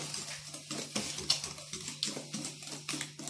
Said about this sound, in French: il faut fouetter jusqu'à ce qu'il n'ait plus de